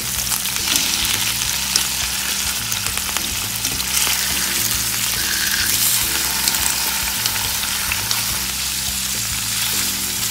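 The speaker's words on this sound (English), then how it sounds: "going to add my salmon in there. I'm going to turn it over to another side." Salmon fillet frying in a hot pan, giving a steady, close, dense sizzle that holds evenly throughout with no voices.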